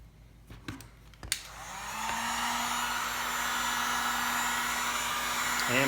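Heat gun started up near a Porsche 911 airbag sticker, a few clicks and handling knocks first, then a loud, steady close blowing roar that holds to the end.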